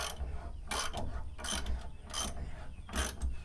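A ratchet wrench is worked under a car, giving repeated bursts of clicking, about five strokes spaced roughly evenly, close by and fairly quiet with no talk.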